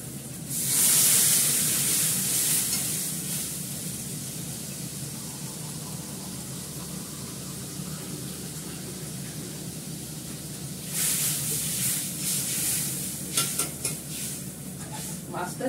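Water hits a hot pan of fish curry with a bright hiss that bursts up at first and then settles into a steady bubbling simmer, before a second round of sputtering and clinking near the end.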